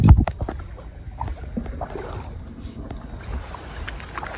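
A wooden rowboat glides across water during traditional fishing, with soft sloshing and a few knocks up close, wind buffeting the microphone, and faint voices nearby.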